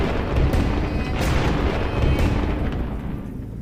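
A heavy storm effect in a dramatic telling of the classic tale, a loud, dense roar of wind and thundering rumbles with sharp crashes surging near the start and middle, continuous and close.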